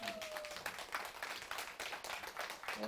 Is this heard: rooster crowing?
no